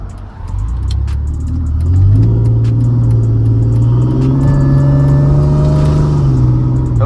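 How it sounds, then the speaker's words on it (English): Supercharged engine of a Mercedes C32 AMG revving from inside the car, a loud steady drone rising in pitch with a thin supercharger whine layered over it, no talking. "Hopefully you guys can hear the supercharger."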